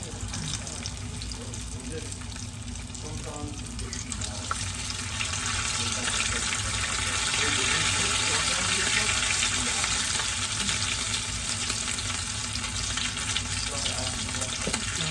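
Beef empanadas fry in hot oil, a continuous bright hiss that grows a little louder partway through, with a voice talking faintly underneath.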